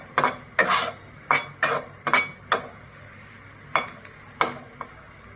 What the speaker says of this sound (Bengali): এইভাবে মরিচটা ভেজে নিতে হবে